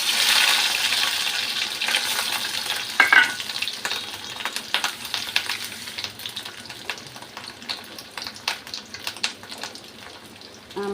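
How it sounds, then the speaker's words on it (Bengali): Fish roe with salt and turmeric frying in oil in a wok, a loud continuous crackling sizzle with sharp spattering pops throughout, heard alone without talk. "মাছের ডিমটা এদিকে ভেজে রাখছি"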